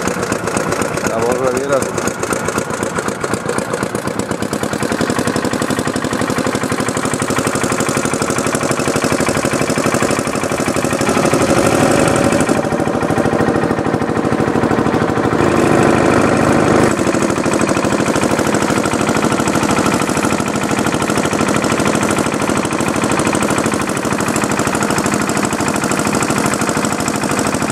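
A boat motor starts and runs steadily for a long stretch in a Southeast Asian river setting, a loud continuous mid-range drone with people talking over it throughout.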